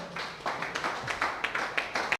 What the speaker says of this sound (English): Let us clap for you, sir.